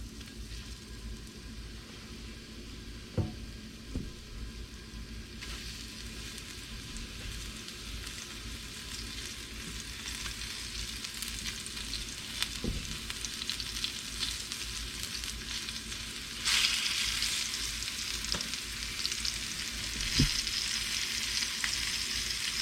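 Flour-coated green chiles fry in hot oil with a soft steady sizzle that grows louder and brighter partway through, punctuated by a few light clinks of utensils.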